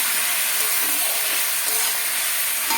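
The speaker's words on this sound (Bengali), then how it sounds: "মশলার সঙ্গে এবার সবজির সঙ্গে ভালো করে কষাই করে নেব" Vegetables sauté with a spice paste of chili powder and ginger in a hot pan, giving a steady, close, continuous sizzle and hiss with no pauses and no voices.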